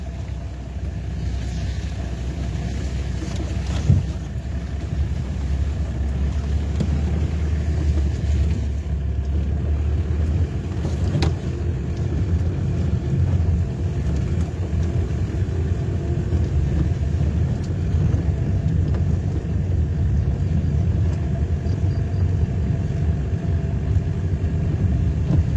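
A car engine runs steadily with a low, continuous rumble, close and even, with occasional faint knocks over the idle.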